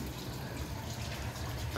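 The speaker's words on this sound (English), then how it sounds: "Do I really need to wait for the tank to fill up?" Toilet tank refilling with water, a continuous steady rush and hiss of water running at an even level, close and without pauses.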